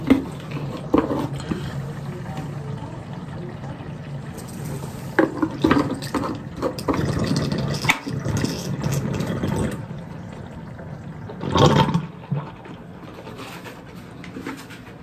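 Bathroom tap water running and splashing as someone washes their face, a steady close hiss with irregular splashes and a louder gush near the end.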